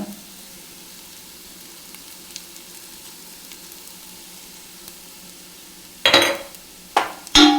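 Turmeric and garam masala go into a hot pan for paneer butter masala, giving a faint steady sizzle, then two sharp bursts of scraping and clattering near the end as the spices are stirred through.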